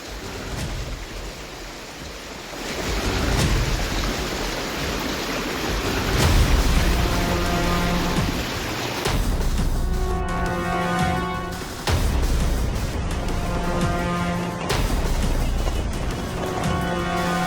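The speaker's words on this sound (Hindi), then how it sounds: "लगातार पानी आता ही जा रहा है" Heavy monsoon floodwater rushes continuously in a broad, roaring wash that stays loud and steady throughout, with a faint intermittent tonal hum layered over the second half.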